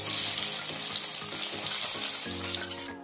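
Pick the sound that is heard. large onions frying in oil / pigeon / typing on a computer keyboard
large onions frying in oil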